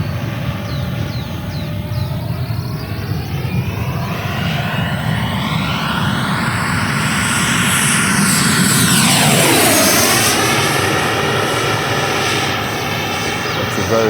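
A Black Horse Viper XL RC EDF jet with a 100mm WeMoTec Midi EVO fan on 12S power screams past at full throttle, a loud continuous turbine-like whine that swells and Doppler-shifts downward as it passes overhead, then keeps roaring.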